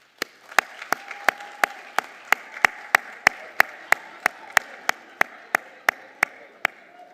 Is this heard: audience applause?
yes